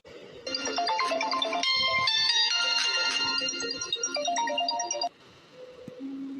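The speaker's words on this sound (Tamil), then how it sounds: "நீங்க ஃபோன் அடிக்குது பாருங்க" A mobile phone ringtone plays loudly and alone as a bright, repeating electronic melody, then cuts off abruptly, leaving a quieter background.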